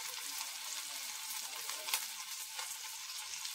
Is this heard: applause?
no